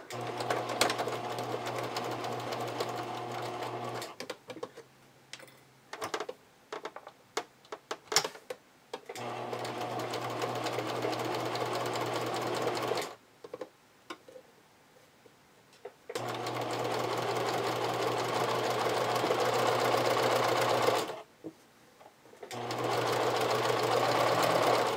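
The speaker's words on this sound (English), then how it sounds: "I'm using a fairly tight zigzag stitch, and I'm stitching the lace directly onto the fabric" Sewing machine working a tight zigzag stitch to attach lace along scalloped edges onto fabric for a vintage-style bra, running in steady stretches broken by short stops and a couple of longer pauses.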